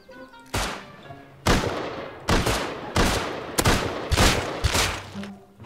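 Gunfire from the survival video game Rust comes as a string of loud, close, heavy blasts and short bursts, roughly one per second, each with a ringing tail.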